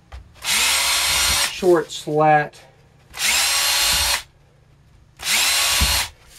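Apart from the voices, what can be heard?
power drill pre-drilling holes through wooden slats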